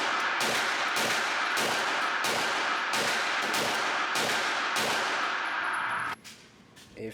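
A Glock 34 pistol fitted with a Radian Ramjet compensator fires eight steady, evenly spaced shots, loud and booming over a constant roar, before the firing abruptly stops.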